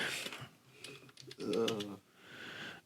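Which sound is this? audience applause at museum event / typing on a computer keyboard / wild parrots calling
typing on a computer keyboard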